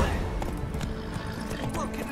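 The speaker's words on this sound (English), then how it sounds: "Whoa there, Roach" Horse hooves clip-clopping with a neigh in The Witcher 3 video game, steady rhythmic hoofbeats close by amid game ambience, with a voice speaking over them.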